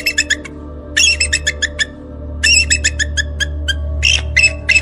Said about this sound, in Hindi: यह दुर्लभ प्रजाति गरुड़ है।